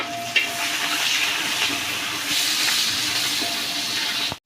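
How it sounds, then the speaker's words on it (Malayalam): Garlic, six green chillies and a large onion sauté in a pan for an Alleppey-style fish curry, giving a steady, close hiss and sizzle that runs without a break, with no voices. "വെളുത്തുള്ളി കൂടി തറച്ച് വെച്ചിട്ടുണ്ട് അതിന് ഇട്ട് കൊടുത്ത് ഒരു ആറ് പച്ചമുളകിട്ട് കുറച്ച് കമ്മീസിലെ ഒരു വലിയ സവോള എല്ലാം കൂടി നമുക്കൊന്ന് വഴറ്റി കൊടുക്കാം"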